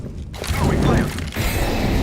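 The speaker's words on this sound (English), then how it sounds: "I am planting the bomb." Bomb being planted in the first-person shooter CS:GO, a busy run of mechanical clicks and device handling filling the whole stretch, with a voice talking over parts of it.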